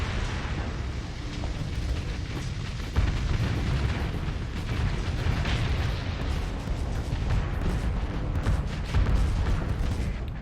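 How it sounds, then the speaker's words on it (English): Game explosions in Starsector as Cobra torpedoes blow apart the hull of a disabled ship, a dense, continuous rumble of booms and bursts with a heavier blast near the three-second mark, steady and loud throughout. "those Cobras just torpedoed the hull of the shell of the ship that was disabled and blew"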